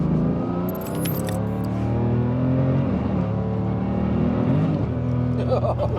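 A tuned 1000hp BMW M3 engine revs and accelerates continuously, its pitch climbing and falling through gear changes, loud and close with a deep throaty drone.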